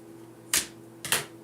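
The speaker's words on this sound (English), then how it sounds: "Now I'm going to cut these bottom strings." Scissors snip through bottom strings during a Chalk Couture craft project, two quick crisp cuts about half a second apart over a quiet room hum.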